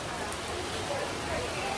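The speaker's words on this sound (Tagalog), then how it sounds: "Ang lakas ng ulan." Heavy rain pouring down in Singapore, a dense continuous hiss of drops striking surfaces, steady and fairly close with no break.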